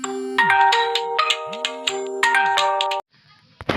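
A phone ringtone plays a loud, bright chiming melody of repeated notes for about three seconds, then cuts off abruptly, followed by near silence and a brief sound at the very end.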